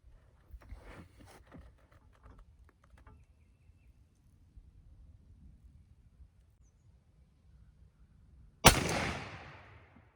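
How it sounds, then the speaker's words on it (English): A 1989 Mossberg shotgun fitted with an Avian X choke fires a turkey load while being patterned: quiet handling rustle, then one loud, close blast with a trailing echo. "So we're gonna do a few shots and see how this goes."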